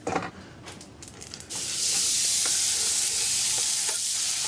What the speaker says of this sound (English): I'm literally going to cook the lemons for about 30 seconds